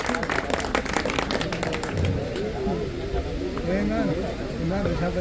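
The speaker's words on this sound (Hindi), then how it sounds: "तो जोरदार तालियां हो जाए।" Crowd clapping to welcome a guest being garlanded at a pigeon-flying prize distribution event in Raebareli, loud scattered applause early that thins out as voices and crowd murmur take over.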